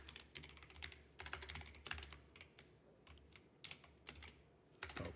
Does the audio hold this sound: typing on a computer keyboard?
yes